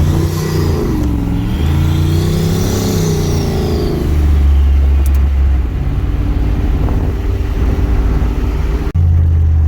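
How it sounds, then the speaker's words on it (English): An 800hp turbocharged Nissan 300ZX roars as it accelerates, engine pitch climbing and falling through gear changes, with a loud, droning exhaust and turbo whine. "Get some turbo noises going on."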